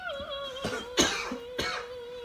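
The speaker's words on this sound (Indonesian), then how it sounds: "Dilarang batuk kah?" Several short coughs, two or three sharp bursts over a steady musical tone in the background.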